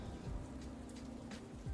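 Steady, soft rain falls in the survival trading game Dustland Delivery, a faint, even patter that runs the whole moment with no voices over it.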